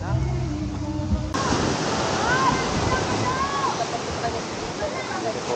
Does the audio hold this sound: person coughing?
no